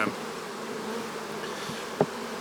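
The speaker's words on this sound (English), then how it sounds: "These bees are going to start getting disoriented real quick" Honey bees buzz around an open hive during a frame inspection, a soft, steady drone with individual bees zipping close by, one passing loudly near the end.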